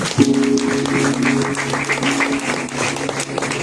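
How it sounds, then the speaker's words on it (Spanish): A church congregation applauding the Lord after a prayer, steady loud clapping from many hands filling the room, with a sustained tone humming underneath and no clear speech. "Den un fuerte aplauso al Señor."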